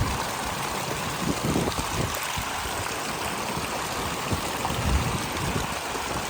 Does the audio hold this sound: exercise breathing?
no